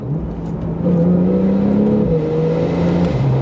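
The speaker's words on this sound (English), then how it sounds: "Paired with the 7-speed PDK, the gear shifts are crisp and smooth" A 2018 Porsche 911 Carrera S (991.2) with a 7-speed PDK, its engine loud and close as it accelerates with a rising droning tone that steps down at quick gear shifts, with no talk.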